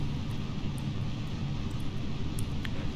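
Rocket engine throttling up in Kerbal Space Program, a steady loud low roar filling the whole stretch with constant rumbling intensity and a few faint clicks above it.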